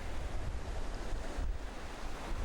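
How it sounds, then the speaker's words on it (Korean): Ocean waves wash onto the shell-strewn sand of Haeundae Beach, a continuous broadband surf roar with wind buffeting the microphone, no voices. "파도가 끊임없이 조개 껍데기를 밀어 올리는 것이다."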